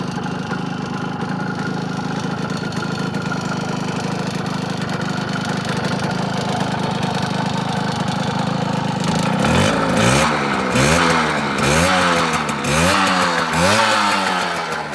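A 1974 Yamaha FS1-E moped's small two-stroke engine runs steadily close by, then revs up and down repeatedly in quick rising-and-falling bursts.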